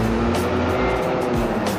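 A bus pulls into the busy Anjuk Ladang bus terminal, its engine rumbling steadily and close amid continuous vehicle noise and background bustle.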